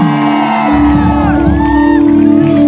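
A large concert crowd claps, cheers and shouts loudly over music, with whoops rising and falling throughout.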